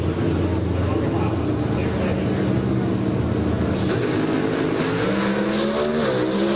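Two NHRA Pro Stock drag race cars run down the strip at the Las Vegas Nationals final in 2004, a loud sustained engine roar with rising pitch near the end, under a commentator talking.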